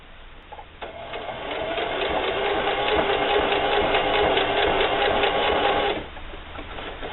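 A sewing machine runs steadily for about five seconds, stitching twice around a patch on a denim wallet; the motor hum and needle clatter are loud and continuous, with quieter handling noise before and after.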